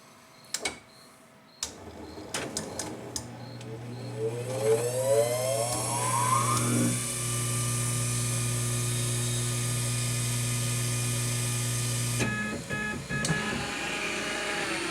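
A Kappa lens edger runs its self-test: a few clunks, then motors whine and rise in pitch, settle into a loud steady mechanical drone for several seconds, and cut off into scattered clicks.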